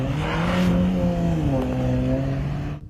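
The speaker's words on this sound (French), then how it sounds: "Pourquoi a-t-il ces échappements façon Fast and Furious?" A car with a modified, Fast and Furious style aftermarket exhaust runs steadily, its engine note holding a loud, close droning hum with a slight pitch shift midway, and no talking.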